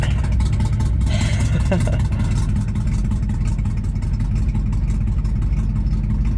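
A cold 1971 Chevy C10 pickup engine runs steadily right after a hard start, a loud, continuous low rumble with a brief rise in revs near the start, then an even idle throughout.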